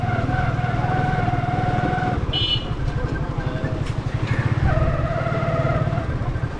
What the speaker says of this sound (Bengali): আমি বাইকটা একটু সাইড করবো।